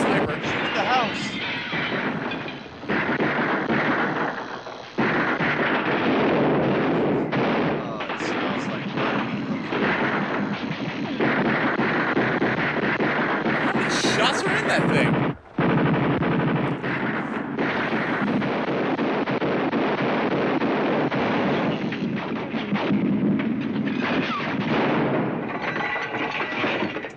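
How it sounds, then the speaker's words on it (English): Gunfire and artillery from a battle scene in the 1954 film Suddenly: loud, dense sustained blasts and shots roll on with few breaks, mixed with voices shouting over the noise. "Return fire!"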